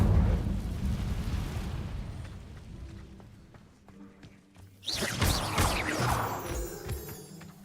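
A fiery magical spell effect rumbles and roars, a heavy low whoosh that fades down before a bright crackling burst flares up and carries on, loud and close.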